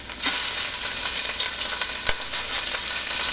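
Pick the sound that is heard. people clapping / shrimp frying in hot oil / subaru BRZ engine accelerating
shrimp frying in hot oil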